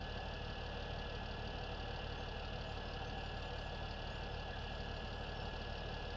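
An International 4166 tractor in Farming Simulator 17 runs at a steady idle, its engine drone constant and unbroken throughout, with no voices.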